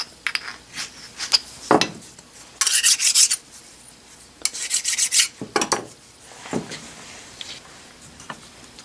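Small metal parts for a wobbler double-acting steam engine are deburred by hand. Close, raspy filing and scraping strokes come in irregular bursts with short pauses between them, and there is no talk.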